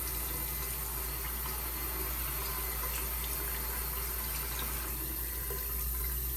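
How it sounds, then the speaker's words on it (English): Water runs steadily from a hotel bathroom sink tap as the hot water heats up, a continuous close hiss and splash with no talking. "See how long the hot water takes to heat up."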